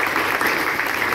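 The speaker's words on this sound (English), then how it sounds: "Loud round of applause for all the organizers and all the participants." A short burst of dense audience applause for organizers and participants after an English speech competition, steady and loud throughout with no voices.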